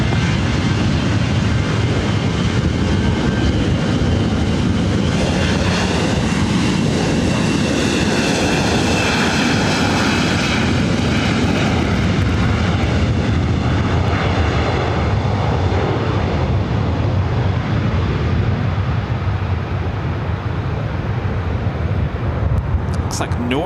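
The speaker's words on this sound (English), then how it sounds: "the Dreamliner coming in from London Gatwick, heading to the north side for a arrival on 24 right" Boeing 787 Dreamliner inbound from London Gatwick on approach to LAX runway 24 right, a loud continuous jet engine roar that swells and slowly fades, with a voice talking over it throughout.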